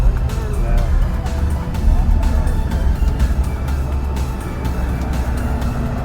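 Several cars roll in to a morning car show, among them a 340 Magnum, an Austin-Healey and a 2015 Slingshot, their engines a steady close rumble with passing whooshes running through the whole stretch.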